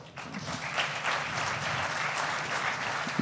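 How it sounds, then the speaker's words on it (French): Conference audience at an Africa development forum applauding, a dense, steady wash of clapping from many hands that continues evenly for a few seconds without talk. "merci pour les applaudissements"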